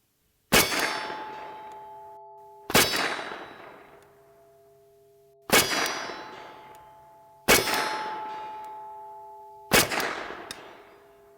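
Kalashnikov USA KR-9 rounds strike a steel target at 150 yards, five sharp metallic clangs spaced a couple of seconds apart, each ringing and decaying before the next, with no gunshots audible.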